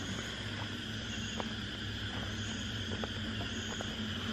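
Steady nighttime jungle ambience at a resort in Thekkady, Kerala, a dense wash of insect buzzing and chirring with a low hum beneath and a few faint ticks, no voices.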